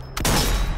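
Sniper rifle fire in the zombie shooter Zombie Army 4: Dead War, a single loud, close gunshot that bursts sharply and rings out with a long booming tail.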